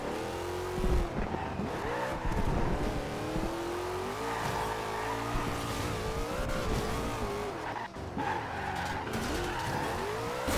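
Dom's Dodge Charger in a Fast and Furious racing game spins its wheels with screeching tire squeal and a revving engine, loud and sustained throughout, with skids rising and falling.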